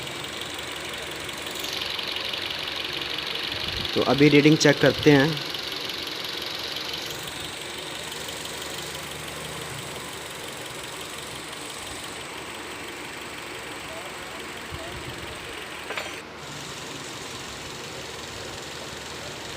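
Toyota Corolla engine idling steadily after being started with new blue injectors fitted, a continuous mid-low hum with a brief louder burst near the start and a short voice speaking partway through.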